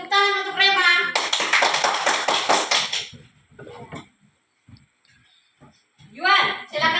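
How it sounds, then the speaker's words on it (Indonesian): Children in a classroom clap in a quick burst of loud, overlapping claps lasting about two seconds, followed by scattered quiet taps, with someone speaking before and after. "tepuk tangan untuk Rema"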